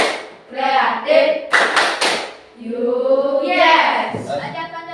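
A primary-school class performs the Pelajar Pancasila clapping routine, with a few sharp group claps breaking into a chanted rhythm of voices close by.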